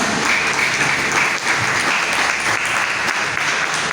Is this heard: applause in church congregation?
yes